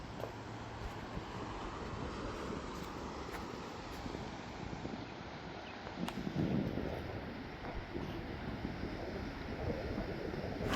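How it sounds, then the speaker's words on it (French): Sea waves at Cap Spartel near Tangier, a constant low rushing surf with wind noise on the microphone, swelling slightly louder toward the end, no voices. "Ça c'est la mer."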